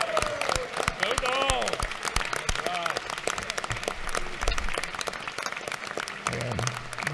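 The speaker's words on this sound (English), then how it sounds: "I asked you to give the University of Georgia on its 240th birthday a round of applause and our thanks for leading our state" Audience applause in a state legislative session honoring the University of Georgia's 240th birthday, sustained loud clapping with whoops and cheers throughout and voices mixed in.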